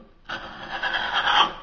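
A scraper drags along a wooden railing spindle, stripping off old finish in one steady, close, rasping stroke lasting over a second.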